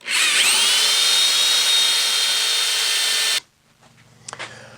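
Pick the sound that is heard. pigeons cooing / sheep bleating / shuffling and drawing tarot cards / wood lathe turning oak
wood lathe turning oak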